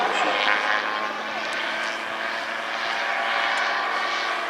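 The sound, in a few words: aircraft flying at the Midland Air Festival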